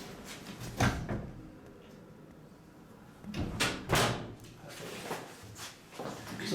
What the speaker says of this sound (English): If we just make sure that door closes behind us.